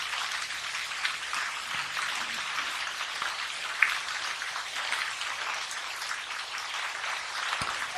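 Steady rain falling outdoors, an even, moderately loud hiss of drops on surfaces continuing unbroken throughout, with a couple of faint isolated knocks and no talking.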